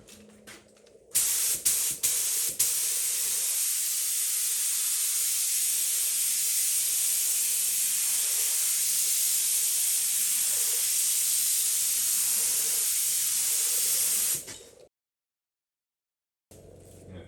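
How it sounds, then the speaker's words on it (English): Spray gun laying a very light tack coat of paint over a car body's E-coat during body work, a steady loud hiss running about thirteen seconds with brief trigger bursts at the start, then cutting off to near silence. "Tack coat is just a very, very light coat over the surface that you're spraying."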